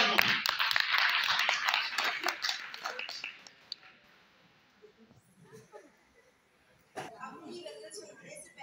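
Audience applause at an Urdu mushaira poetry gathering, a burst of clapping for the first few seconds that fades, then a quieter stretch with a brief renewed patter of claps near the end.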